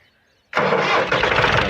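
A 2010 model tractor engine cranks and catches abruptly, then runs loud and steady at a rough idle in an open field before ploughing.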